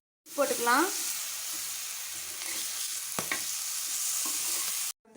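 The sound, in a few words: dried fish frying in oil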